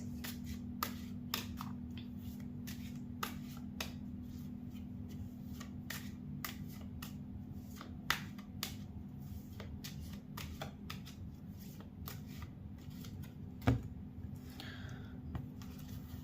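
Tarot cards are shuffled and drawn close up, a long run of soft riffling flicks and sharp slaps repeating at a brisk, uneven rhythm over a faint steady hum.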